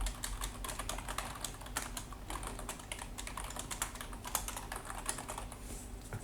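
Rapid, steady typing on a computer keyboard as code is entered, a fast run of light clicks and key taps close by with no talking.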